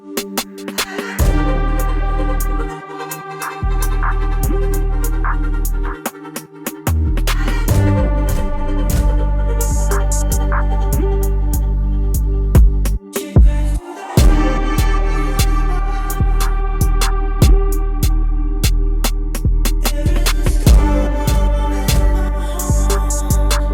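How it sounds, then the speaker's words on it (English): Hip-hop beat with full drums and a piano chord: steady looping kick and snare hits with sustained tonal layers and deep bass, playing loud and continuous with brief dropouts, no voices. "So with all the drums, it sounds like this."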